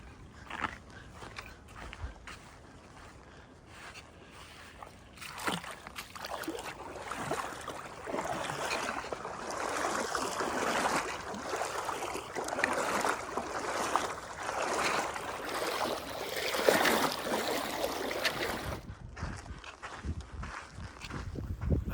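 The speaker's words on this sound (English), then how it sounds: "we have another creek crossing" Flowing creek water at a canyon crossing on a backcountry hiking trail, with broad steady rushing and splashing, likely from wading, that swells after a quieter opening and continues close and loud until near the end.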